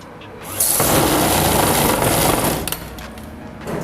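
A sewing machine runs in a steady, loud burst while stitching the side pocket of a ladies' palazzo pant, then slows and stops near the end; no voices are heard.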